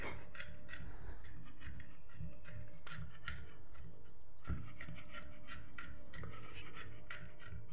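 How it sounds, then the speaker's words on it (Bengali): Chilli being finely chopped with a knife for chilli paneer, a steady series of close, crisp blade taps and scrapes on a board repeating through the whole stretch with no talking. "এটাকেও একদম কুচি কুচি করে কেটে নিচ্ছি।"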